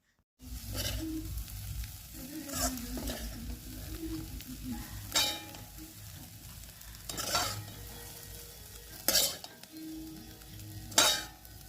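Eggs with salt and turmeric are stirred in a hot pan over a low, steady sizzle, with five or six distinct scraping strokes of a spoon at regular intervals.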